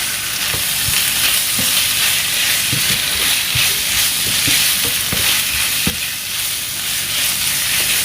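Chopped large onion and chicken breast sizzle and fry in olive oil, a steady loud hiss with soft stirring scrapes and taps throughout, no voices.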